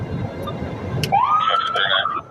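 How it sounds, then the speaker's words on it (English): A police car siren in a video game wails upward and holds a warbling electronic tone after a low rumbling background, loud and close. "Wow, and a siren. Sounds just like it."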